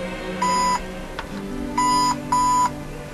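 An economy sound board in an MHS lightsaber build plays its boot sound: three clean electronic beeps, one short, a pause, then two close together, with a faint click between them.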